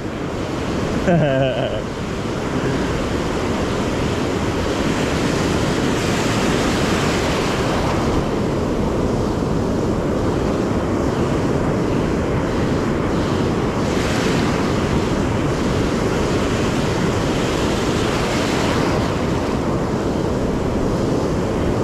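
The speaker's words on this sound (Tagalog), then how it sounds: "Incoming tide, guys, incoming tide." Ocean surf rolls in at incoming tide on a beach while surf perch fishing, a loud, continuous roar of breaking waves mixed with wind buffeting the microphone.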